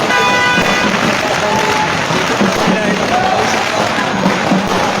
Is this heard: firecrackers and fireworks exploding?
yes